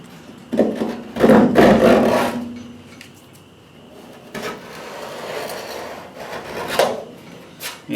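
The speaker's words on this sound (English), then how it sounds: "I'm just going to use a razor blade scraper, and it's got a pretty decent blade" A rough scraping rasp of a razor blade scraper dragged over the painted bed of a 1985 Chevy K10, removing dirt in repeated strokes of varying loudness, close up with no talking.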